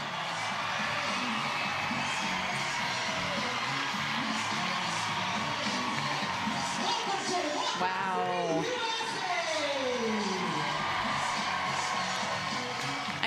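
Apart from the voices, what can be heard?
huge crowd cheering a walk-off win at softball game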